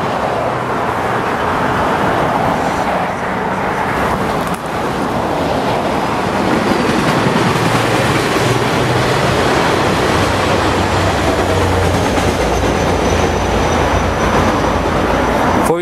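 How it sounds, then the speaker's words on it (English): Caltrain 507 passing on the Bay Area commuter line, a loud continuous rumble and rush of wheels and cars that swells midway and holds close for the full stretch, with no voices. "Guys, Caltrain 507 now."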